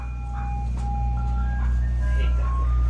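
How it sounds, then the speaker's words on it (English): A loud ice cream truck passing by a garage where a carbon fibre roof is being made for a V8-swapped Toyota Corolla, its jingle playing in sustained electronic tones over a steady low engine rumble. "Don't mind the ice cream truck. Just viciously loud."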